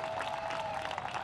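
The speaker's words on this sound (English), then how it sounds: "and the crowd applauds it." A soccer crowd applauds a near miss at a Charlotte Independence versus Charleston Battery match. The clapping is a brief, dense wash of distant stadium applause with no clear voices.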